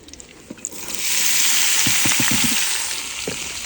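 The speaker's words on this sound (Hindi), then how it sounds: "अभी हम प्याज फ्राई कर लेते हैं।" Onions fry in ghee with a dense, close sizzle that rises after a second of light taps, holding steady while a few clicks of stirring punctuate it.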